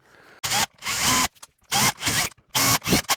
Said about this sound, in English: I'm going to spin the drill backwards and it's going to score a line.